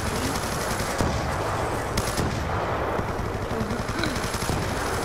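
Rapid automatic gunfire from the video game Black Ops 2 Zombies, loud sustained bursts with a few sharper shots, alone without talk.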